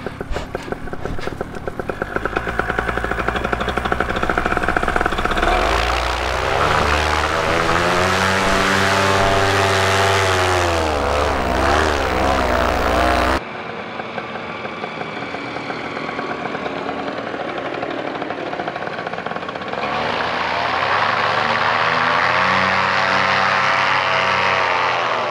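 MacFly paramotor engine and propeller droning loudly and steadily in flight, with a pitch change midway and the roar continuing throughout.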